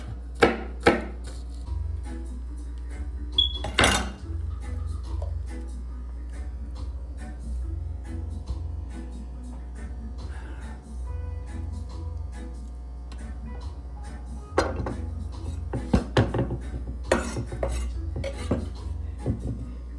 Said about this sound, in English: And then I'm gonna cut my scallion, chop up my scallion small chunks.